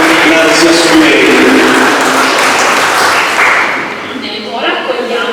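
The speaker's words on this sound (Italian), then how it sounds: "un applauso alla nostra Grazia Sumeri" An audience applauds loudly at a poetry prize ceremony. The sustained, dense clapping fills the room and eases somewhat toward the end.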